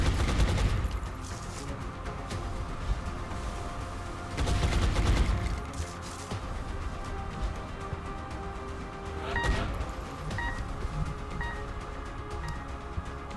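Heavy incoming gunfire in the turn-based strategy game XCOM, with loud bursts of automatic fire near the start and around five seconds, then scattered shots and impacts over a steady battle backdrop.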